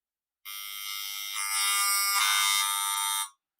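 Radio-frequency emissions from a cordless phone rendered as audible sound: a loud, steady electronic buzzing drone with dense harmonics, growing harsher midway, running alone for about three seconds.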